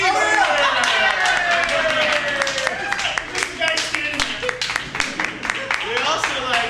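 A live improv comedy audience claps for a cast member at the keyboard and piano, a dense burst of hand claps with a voice talking over it.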